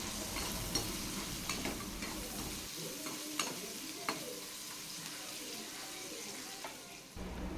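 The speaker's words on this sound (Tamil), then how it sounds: "சேர்த்துட்டு நல்லா கோல்டன் கலர் வர வரைய ஆனியனை வதக்கி விட்டுக்கலாம்" Onions and curry leaves fry in a pan for Tamil chicken chukka varuval, giving a steady close sizzle with occasional stirring scrapes and clinks. The sizzle runs throughout, with a low background hum that drops away partway through.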